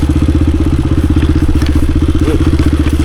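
A clapped-out but restored 1996 Honda XR250 dirt bike ridden through the woods pounds out a rapid, even engine thump, loud and close, with faint clatter from the trail over its steady beat.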